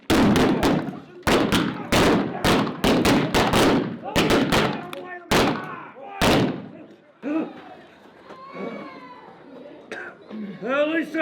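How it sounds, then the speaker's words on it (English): A run of loud sharp gunshots fires in bursts from a staged OK Corral shootout reenactment, some close together and some spaced apart. Voices call out in the crowd afterward as the shots stop. "we survived the shootout at the OK Corral"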